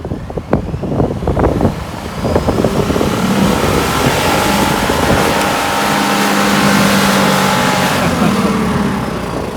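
Car stuck alongside a platinum truck, its engine revving hard while trying to back up; a loud, sustained roar with rising and falling revs, rough and strained throughout the clip with no talk over it.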